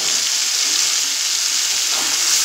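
Steady, loud sizzling of green chilli and mustard paste frying in a pan as a splash of water goes in, a continuous bright hiss with no voices.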